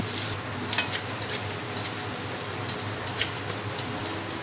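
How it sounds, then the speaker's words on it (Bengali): Chopped onions fry in a pan for an egg and potato tomato curry with a light, steady crackle, broken by sharp ticking taps from a stirring utensil at irregular moments, quiet and close, with no talking. "দেখুন আমি পেঁয়াজটাকে কিভাবে ভাজতেছি"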